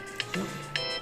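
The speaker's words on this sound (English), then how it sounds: "that's the phone ringing" A telephone rings indoors, with short repeated electronic trill bursts, moderately loud, under a person talking.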